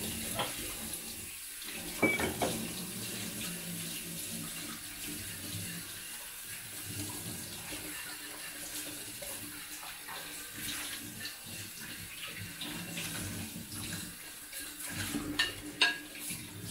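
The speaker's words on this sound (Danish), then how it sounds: "Hvis det er nemmest at lige skylle den her tallerken af, mens det hele er vådt." Water runs steadily from a tap while a plate is rinsed in a sink, a continuous close splashing stream with a few clinks, no talking.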